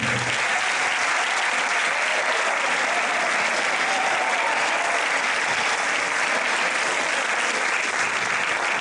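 Loud, continuous applause from the audience at a secondary school staging of Tres sombreros de copa fills the whole stretch, a thick, even roar of many hands clapping.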